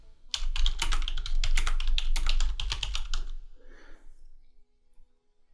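Rapid keystrokes on a computer keyboard as a short search phrase is typed, a close, crisp burst of clicks lasting about three seconds before falling quiet.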